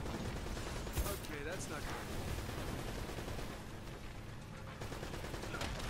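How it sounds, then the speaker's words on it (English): Machine gun fire in the video game Uncharted: Drake's Fortune, sustained noisy bursts of shots layered over dense game sound throughout, with some voices mixed in. "Oh my god, they got a machine gun?"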